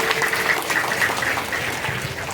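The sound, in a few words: audience applause welcoming a speaker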